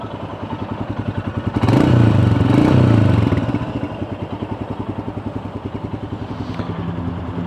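A Royal Enfield Himalayan motorcycle with stock exhaust idles with a steady, rapid thumping exhaust pulse, briefly revving louder near the start before settling back to a close, even idle.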